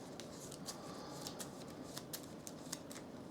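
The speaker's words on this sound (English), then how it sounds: "I'm going to shuffle the cards in a second as well" Playing cards for the Unstoppable card game are shuffled by hand, producing quiet, rapid riffling snaps and flicks in quick irregular bursts, close and soft with no talking.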